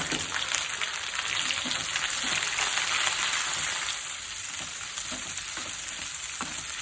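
Tindora sizzles steadily in hot oil with sliced onions and green chili, a close and constant frying hiss broken by occasional stirring taps.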